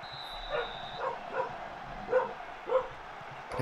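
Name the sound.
dog barking in the background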